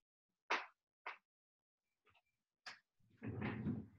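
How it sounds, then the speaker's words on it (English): Several sharp knocks and thumps come from a door being handled and shut indoors, isolated bangs spaced out in quiet, followed by a longer rustling, muffled bump at the end. "Give me a quick second here to close this door."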